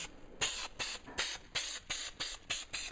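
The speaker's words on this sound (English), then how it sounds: "So don't be afraid to spray heavy here so you can move this piece around." Liquid is sprayed heavily onto the lid of a Victory Vision motorcycle trunk while a liner is installed, close hissy bursts coming in a quick steady rhythm of about eight pumps, with no talk.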